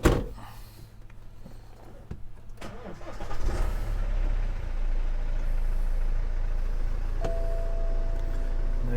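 A BMW 320d M Sport diesel is started with a modified red push button: a click and brief crank, then the engine catches and settles into a steady, close, rumbling idle.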